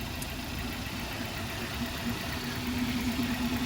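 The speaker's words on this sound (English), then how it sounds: "Very quiet engine on this one." A car engine idles quietly at a municipal auction, a smooth, steady low hum with a faint mid-pitched tone running throughout, close by and without speech.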